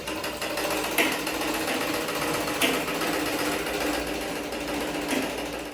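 A new sewing machine runs steadily and continuously, close and fairly loud, with a faint periodic clack every second or so.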